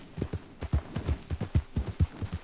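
Horse hooves clip-clopping in the video game Red Dead Redemption 2, a steady, rhythmic trot of close, dull hoof thuds repeating rapidly with no talk over them.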